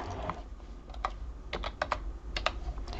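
Keys tapped on a computer keyboard while entering text in the Scratch coding editor: short quiet bursts of clicks in small irregular clusters, close and soft, with no voice.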